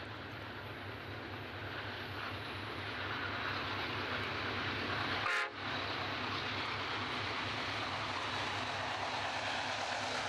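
Massive freight locomotives in Australia's Pilbara region, over 16 feet high and weighing more than 190 tonnes, give a continuous low rumble with a short horn blast near the middle.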